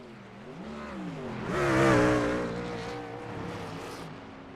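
A race truck engine in a racing video game revs at Phoenix, swelling to a loud peak mid-clip and then easing back to a steady drone, with no talk.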